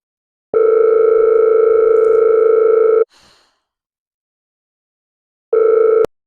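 A telephone dial tone sounds steadily for a few seconds while a call is being placed, stops briefly with a soft breath, then returns for another short burst.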